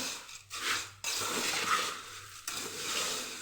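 Puffed rice is stirred with a spoonful of powdered sugar for garlic sev mamra, giving a dry, crisp rustling in bursts with short pauses between, close and moderately quiet.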